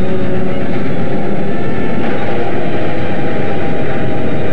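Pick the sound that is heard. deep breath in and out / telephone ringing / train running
train running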